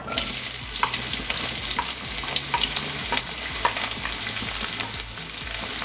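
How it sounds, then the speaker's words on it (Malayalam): Chopped onions frying in hot oil with fennel, a steady dense sizzle and crackle with occasional stirring scrapes, close and continuous throughout. "നമ്മൾ കട്ട് ചെയ്ത് വെച്ചേക്കുന്ന നമ്മുടെ സവാള ഇട്ട്"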